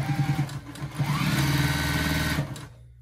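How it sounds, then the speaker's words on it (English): A sewing machine stitches a fabric bowl cozy in one fast, continuous whirring run up close, with brief speed changes, then stops just before the end. "I do like it because it does sew really fast, so. Okay, so I got this lined up. And here's my line. I'm going to sew my line."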